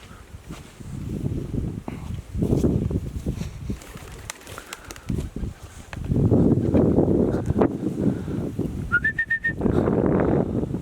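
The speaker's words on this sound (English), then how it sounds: "Wonder is that one of my birds that flew away." Outdoors among sycamore, spruce and alder trees, a pigeon-like bird coos in repeated low hoots, moderately close, with a brief high whistle-like chirp near the end and no speech.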